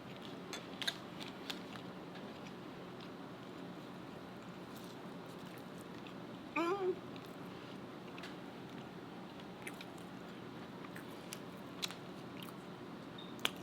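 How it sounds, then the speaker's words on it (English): Quiet close-up biting and chewing of a homemade copycat Wendy's burger with a soft bun, one crisp bite near the middle followed by faint moist mastication sounds in a quiet room. "let me take one more bite"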